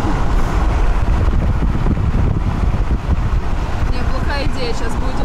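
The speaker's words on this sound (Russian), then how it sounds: "сейчас будет очень шумно от ветра" Heavy wind buffeting a microphone, a constant low roaring rumble that stays loud and steady throughout, with faint voices and outdoor noise underneath.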